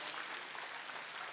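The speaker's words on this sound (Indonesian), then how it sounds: "tepuk tangan yang paling meriah buat Yesus." A church congregation claps during a worship service. The applause is faint and distant, a soft even wash lasting just over a second.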